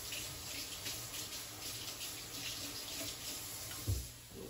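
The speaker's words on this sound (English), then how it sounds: "I'm gonna have a little quick rinse" Kitchen tap running for a quick rinse while making meatloaf, a faint steady stream of water with a small knock near the end.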